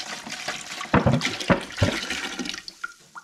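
Water pouring into a pressure canner for canning chicken leg quarters, a close, gushing splash with uneven surges that tapers toward a trickle at the end.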